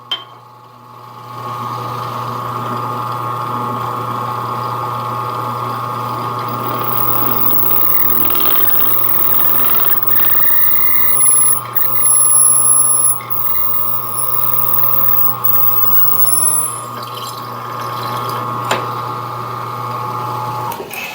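A power drill whirs steadily for a long stretch, drilling a 3/16-inch hole, its motor holding a constant mechanical whine, with a few louder grinding surges near the end as it bites in.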